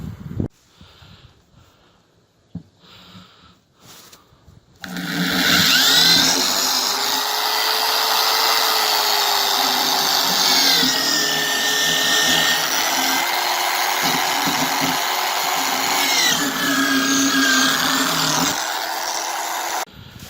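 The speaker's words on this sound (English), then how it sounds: "So now I'm going to drill a hole" A power drill bores a hole through a barrel being made into a garden planter, a loud steady whine with shifting pitch that starts after a few seconds of quiet handling noises and runs continuously until near the end.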